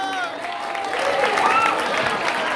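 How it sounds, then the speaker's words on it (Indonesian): Applause from the audience at a school quiz final, a steady crowd clapping at moderate level while a voice talks over it at the start. "Beri tepuk tangan dulu ya."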